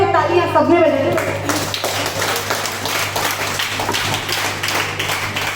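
Applause from an audience at an informal visit gathering, a dense wash of many hands clapping steadily for several seconds after a brief stretch of speech at the start, with a low hum running underneath.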